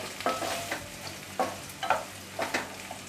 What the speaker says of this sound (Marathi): तेल तापल्याच्या नंतर यामध्ये आपण राई घालूया जिरं त्यानंतर कढीपत्ता हिरवी मिरची कांदा आता हे सर्व आपल्याला परतून घ्यायचं आहे